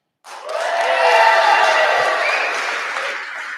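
A crowd at a pitch night event cheers and applauds after being prompted, rising quickly into dense clapping and whooping that stays loud and slowly eases off.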